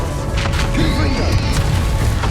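A Confringo fire spell blast in Hogwarts Legacy, heard as a loud, dense burst of crackling, splintering impact noise with a brief whooshing streak, sustained and close throughout.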